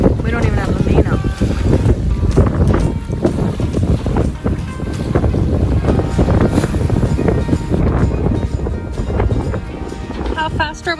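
A small sailboat running under a single reefed headsail in Turkish waters, with steady loud wind rushing across the microphone, water slapping the hull, and creaks and knocks from the rigging throughout.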